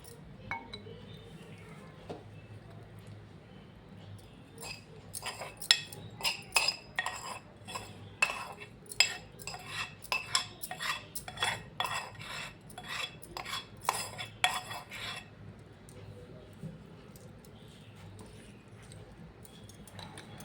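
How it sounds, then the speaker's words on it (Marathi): Cooled tempering is mixed into an instant amla pickle sweetened with jaggery, as a spoon knocks against the container in a quick run of bright clinks and taps, fading back to near silence. "आता ही फोडणी ह्याच्यामध्ये घालायची"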